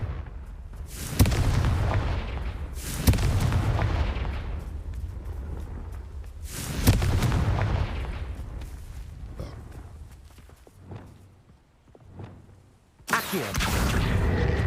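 Confringo blasting spell explosions in the Hogwarts Legacy video game, several heavy booming blasts with long rumbling decays, loud and close, spaced a few seconds apart.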